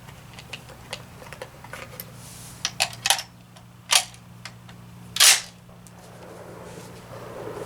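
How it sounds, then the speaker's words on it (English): Sharp isolated clicks and a few louder snaps from a Swiss K31 rifle at an outdoor range, spaced irregularly over a low steady hum, as the scope turret is adjusted a couple of clicks. "I am going to give it a couple clicks to the right."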